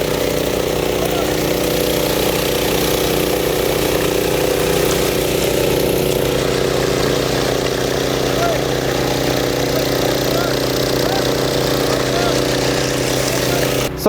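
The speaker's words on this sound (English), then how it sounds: "He's really hauling tail with a trowel machine on the house." A power trowel machine smoothing a concrete slab at a barndominium house pour drones continuously with a steady mid-pitched engine hum, close and loud throughout.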